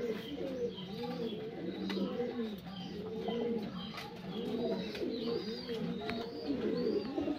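Pigeons coo steadily in a loft, several birds overlapping in a continuous, rolling chorus of low warbling calls that sits close and fairly loud, with an occasional faint chirp above it.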